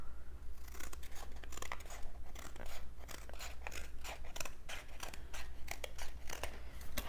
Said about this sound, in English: Had to pick the worst scissors for that project.